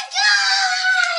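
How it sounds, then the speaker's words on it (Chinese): Two children scream loudly together in a sustained, high-pitched shriek as they run out a door in fright, all in about a second. "两个熊孩子大叫着跑出了门，他们被吓得躲进了树屋"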